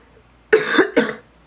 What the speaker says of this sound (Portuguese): Gente do céu, essa tosse.